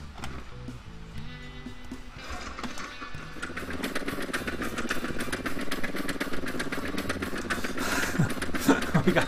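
A vehicle engine in the Scrap Mechanic building game chugs and revs in a steady mechanical drone, growing busier and louder after a couple of seconds with clattering ticks layered over the continuous engine tone.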